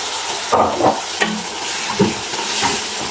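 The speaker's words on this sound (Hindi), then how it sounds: "अब इसमें डाल देंगे शिमला मिर्च और इसको अच्छी तरह से मिक्स करेंगे और इसकी भी अच्छे से बुनाई करेंगे।" Potatoes and green capsicum are stir-fried in a pan with a constant sizzle. Several sharp scraping strokes from the spatula tossing the vegetables cut through it, close and without speech.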